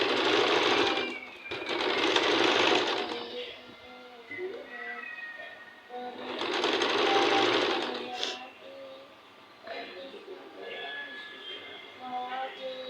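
A sewing machine runs in bursts, stitching a picot edge along a folded saree, its whirring starts and stops close by while someone talks between and over the stitching.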